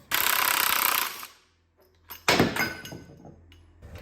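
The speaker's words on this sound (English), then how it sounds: "let's get that balancer bolt off. Get our pulley puller set up on that and get that balancer off" On a '77 Jeep CJ7's AMC 304 engine, the harmonic balancer bolt comes off under an impact tool: two loud bursts of rattling hammering, separated by a short pause, with a low hum in between.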